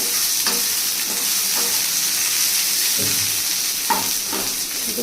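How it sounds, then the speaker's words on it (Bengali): Onions frying on high heat for dry chilli chicken give a steady, loud broadband sizzle, with occasional scraping stirs of the spatula standing out at intervals throughout. "এর মধ্যে আমি পেঁয়াজটাও দিয়ে দিলাম, দিয়ে আমি হাই করে নিলাম"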